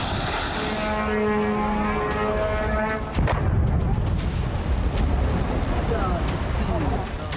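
A sharp blast from an Iranian drone strike on an industrial site in Kuwait cuts in partway through, followed by a sustained, heavy, roaring rumble. Steady tonal droning comes before it.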